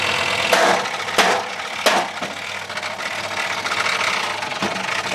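A broken dehumidifier fan rattles and knocks like a tractor engine, a steady chugging drone broken by several sharp clattering bangs.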